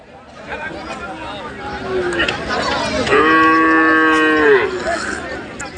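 Cattle moo loudly and close at a livestock market, one long drawn-out low call dominating the middle, over a busy background of voices and crowd chatter.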